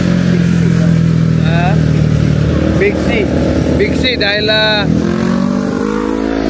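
Motorcycles on the curving Marilaque Highway rev and accelerate past one after another, with rising engine whines over a steady road roar while someone speaks close to the microphone.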